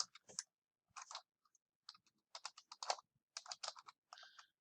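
Quiet bursts of typing on a computer keyboard, close and crisp, with short runs of rapid key clicks separated by brief pauses and no voices.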